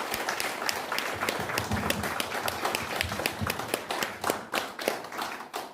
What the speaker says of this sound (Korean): 뜨겁게 환영하시는 박수로 환영해 주시기 바랍니다